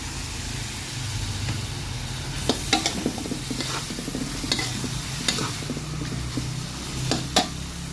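Eggs stir-frying with winter melon in a hot pan, steady sizzle beneath scraping spatula strokes and a few sharper clacks against the metal.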